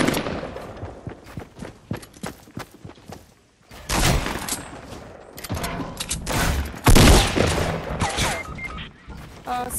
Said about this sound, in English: Oh, someone else is shooting at me.